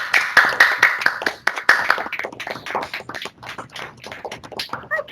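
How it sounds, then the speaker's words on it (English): A small group claps over a video call at a 2020 virtual university scholars of excellence ceremony, with scattered, uneven hand claps from several participants that are close and sharp, then taper off. "the rest of us can just clap so that they can see"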